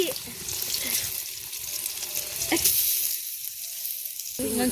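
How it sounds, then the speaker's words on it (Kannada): Eggplant frying with ginger garlic paste, a bright hissing sizzle with stirring noises that fades into a quieter stretch before the sizzle returns, close by. "ಬದನೆಕಾಯಿ ಡ್ರೈ ಆಗಿದೆ ಇವಾಗ ಶುಂಠಿ ಬೆಳ್ಳುಳ್ಳಿ ಪೇಸ್ಟ್ ಹಾಕ್ತಾ ಇದ್ದೀವಿ"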